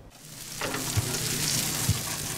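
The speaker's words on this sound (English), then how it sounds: "The sizzle from the barbecue grill." Steady sizzling of food on a hot barbecue grill, a close, continuous crackle with a couple of soft pops.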